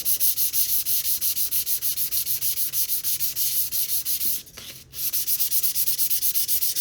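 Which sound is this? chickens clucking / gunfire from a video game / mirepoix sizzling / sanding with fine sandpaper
sanding with fine sandpaper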